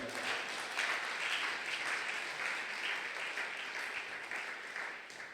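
A church congregation at a Sunday thanksgiving and praise service claps and cheers steadily, a dense, continuous wash of applause holding at an even loudness throughout with no speech over it.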